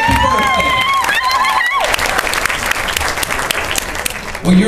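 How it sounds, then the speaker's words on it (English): Loud, full audience applause with some cheering at a live comedy show, steady throughout, while a voice talks over the start and crowd noise continues under it. "let's give her applause"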